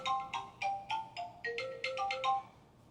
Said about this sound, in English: Hold on, I'm getting a call.